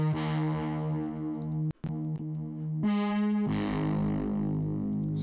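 A dark synth bass patch built in the Diva synthesizer holds sustained, buzzy notes with a couple of brief dropouts and a shift in pitch, heard alone and fairly quiet.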